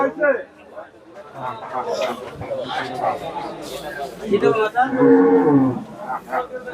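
A cow lows loudly at a crowded cattle market in Dhaka, one long moo near the end rising above constant nearby chatter and bargaining voices.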